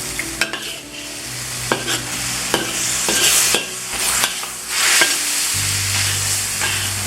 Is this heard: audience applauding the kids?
no